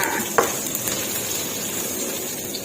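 Palo spice paste being stir-fried in a pan for Thai braised pork and eggs gives a steady, soft sizzle, with one small clink of a utensil near the start.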